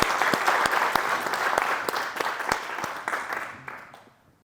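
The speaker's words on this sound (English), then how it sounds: "Maybe a round of applause for him as well." An audience at a tech conference breaks into moderately loud, sustained applause with a few sharp individual claps standing out, fading away toward the end.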